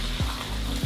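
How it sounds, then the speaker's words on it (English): A pot of bean stew made with vegetable or sunflower oil simmers on very low heat, giving a brief, steady, soft sizzle and bubbling with two small pops. "So I'm just gonna let it simmer a little bit more on a very low heat."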